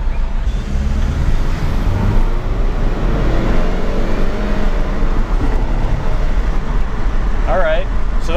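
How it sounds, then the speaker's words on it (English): A tuned Saab accelerates hard from a standstill with traction control off, a loud, steady engine and road roar heard from inside the car, with a brief rising whistle near the end. "Hopefully, hear the turbo."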